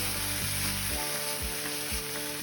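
Leeks sizzle steadily in hot olive oil in a pan, a continuous close frying hiss with occasional stirring bumps and no talk.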